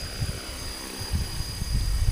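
A very light KDS 450 RC helicopter flies nearby at modest rotor speed, giving a steady whine with low, pulsing rotor chop and gusty rumble.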